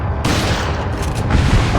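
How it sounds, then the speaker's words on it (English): Grenade explosion in Resident Evil 4 (2005), a loud, dense blast with rumbling low end that swells suddenly and holds for a couple of seconds. "Gonna throw a grenade just first thing first there"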